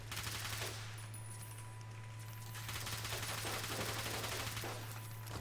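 Sustained automatic gunfire at robot enemies in Fallout: New Vegas, rapid shots rolling continuously over a steady low hum with no talk.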